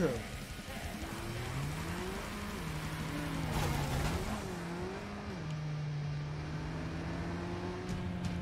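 Car engine in Cyberpunk 2077 droning along with shifting pitch as it accelerates and changes gear, with a steady rain-like hiss and occasional bursts behind it, moderately quiet throughout.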